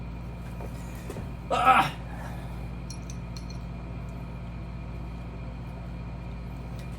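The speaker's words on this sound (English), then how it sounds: "And drop our bolts on the ground." Metal engine bolts from a Shovelhead engine rebuild dropped onto the ground, a brief bright clatter of a few clinks near the start, close and moderately loud, followed by a short exclamation and quiet background hum.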